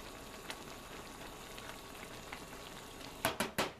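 Stir fry cooking down on high heat in a pan gives a steady, fairly quiet frying hiss, broken near the end by three louder scraping or stirring strokes.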